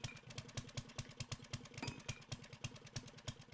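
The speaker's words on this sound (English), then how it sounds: "Sorry about the auger just idling here." A motorized auger idling in the video game 7 Days to Die, heard as a steady low engine putter with a regular pulsing rhythm, faint and alone.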